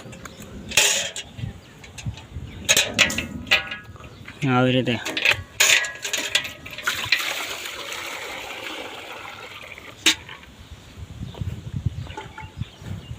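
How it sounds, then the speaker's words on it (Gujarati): A buffalo noisily slurps and splashes water from a bucket up close, with wet gulping bursts. Someone speaks briefly over it. "આપણું ઢોર જો જ્યારે પાણી પીવે છે ભેંસ"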